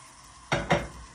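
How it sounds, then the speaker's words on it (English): Tomatoes, onion and garlic dropped into a hot pot for curry chicken, giving two quick bursts of sizzle as they hit and are stirred, close and fairly loud against a quiet kitchen. "So that's the tomatoes, the onion, and the garlic. You wanna throw it right in there."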